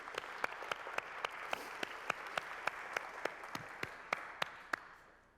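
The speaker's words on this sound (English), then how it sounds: "So can we all applaud together for those actors who just gave some great scenes?" A concert audience applauds steadily in a dense wash of clapping, with sharper individual claps standing out at a regular pace before the sound tapers off at the end.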